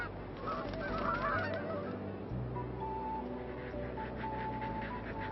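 Aleutian Canada geese honk repeatedly on a remote Alaskan island, a flock calling in overlapping, nasal bursts at moderate distance with a quiet background hum.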